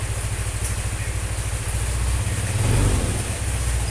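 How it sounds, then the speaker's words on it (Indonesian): Motorcycle engine idling steadily right after an oil change, a close, even low rumble with a slight rise in revs midway, heard alone. "Yang jelas ini suara mesinnya lebih halus"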